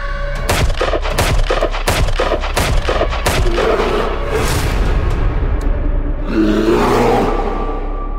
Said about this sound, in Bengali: এরপর পর পর 5টা গুলি চালিয়ে দিলেন